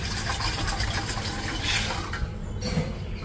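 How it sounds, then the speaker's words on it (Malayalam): A small amount of water is poured into an idli steamer pot in a home kitchen, making a close, steady splashing gurgle that slows toward the end. "ആ തട്ടെടുത്തിട്ട് ഇതിലേക്ക് നമുക്കൊരു 1/6 ഗ്ലാസ് അടുത്ത് വെള്ളം കുറച്ച് ഒഴിച്ചു കൊടുക്കാം"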